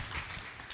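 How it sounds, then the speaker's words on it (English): Brief burst of audience applause at a conference on climate change, conflict and infectious diseases, a dense wash of clapping lasting under a second. "Another round of applause for"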